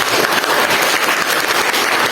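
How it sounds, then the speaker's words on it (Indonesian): Students in an Indonesian biology classroom clap for a classmate, a steady, dense patter of hand claps filling the room throughout without any talk. "Oke, kita tepuk tangan untuk Chandra"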